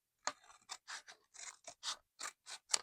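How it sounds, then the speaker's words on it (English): Scissors snip through a spare flap of fabric in a quick series of about ten short, crisp cuts, close and fairly quiet, with no one talking. "just cut it off, probably neater than I did"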